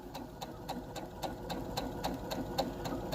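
Brother SE600 sewing machine stitching a straight line: a steady, fast, regular mechanical clatter of needle strokes, close and alone.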